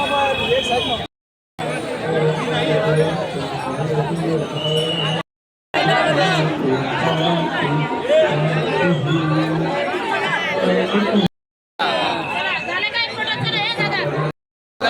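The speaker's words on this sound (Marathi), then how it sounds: "बघा गर्दी बघा" A dense crowd of pilgrims chatters continuously at a Warkari festival temple, a close, loud babble of many voices with occasional clinks, broken by a few brief silent gaps.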